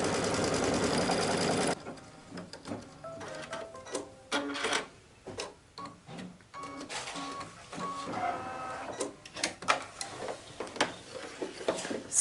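An embroidery machine stitching down appliqué fabric on an apron, heard as a rapid mechanical whir followed by irregular bursts of needle clatter and motor stops and starts.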